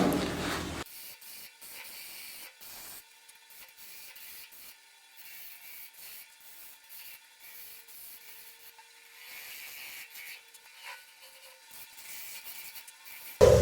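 Wood lathe running in reverse while a ground dovetail tool cuts a large wooden salad bowl: a steady rubbing, hissing scrape, close and continuous, set over a low motor hum that cuts off near the end.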